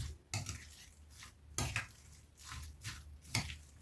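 A spoon stirs sliced onion through a mayonnaise and mustard dressing in a bowl, giving several separate scraping, clinking strokes against the dish at an uneven pace, close and fairly quiet.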